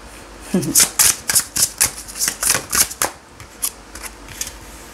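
Tarot cards are shuffled in a rapid run of crisp, close riffling bursts, about a dozen in quick rhythm that taper off, while a person speaks over them.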